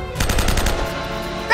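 M4 rifle firing in the video game Uncharted: Drake's Fortune, a rapid automatic burst of closely spaced loud shots lasting about a second before a brief sharp metallic sound.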